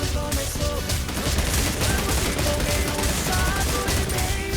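Gunfire in the battle game Real Royale: dense, loud volleys of rapid shots overlapping into a sustained barrage with no pauses.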